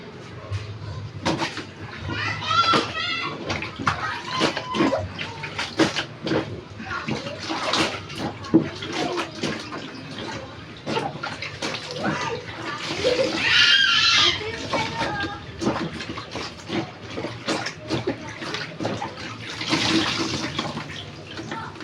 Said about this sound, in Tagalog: unahin po natin banlawan ang mga kulay puti bago ang dekolor